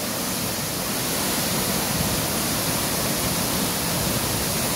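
Dasham Falls near Ranchi crashes and sprays in a dense, unbroken roar, loud and close, filling every moment without any voices.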